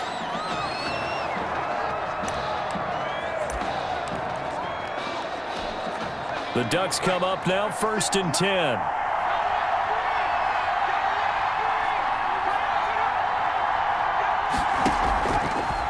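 A steady stadium crowd roars through a Madden NFL 21 football game, with a burst of cheering midway, under continuous play-by-play commentary from a male announcer.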